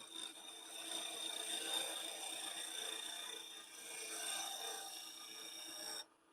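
Wood lathe spinning at 1700 RPM as a tool makes a light pass across face grain, giving a steady, close, hissing scrape that holds for about six seconds and then stops abruptly.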